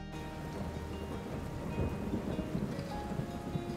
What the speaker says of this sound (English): One day, Rocky and I were playing outside when along came the rain.